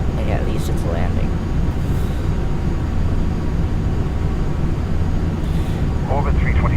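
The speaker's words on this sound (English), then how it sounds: "This might be a bit of a rough landing, but hey, at least it's a landing." An airliner touches down in Flight Simulator X, its steady engine roar filling the scene at close range with a rough landing, while a voice talks over it throughout.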